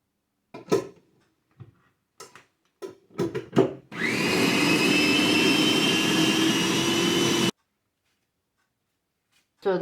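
A food processor whirs loudly for about three and a half seconds as it blends Yorkshire pudding mixture. The motor is steady and high-pitched, and it is framed by brief clatters and handling knocks before and after.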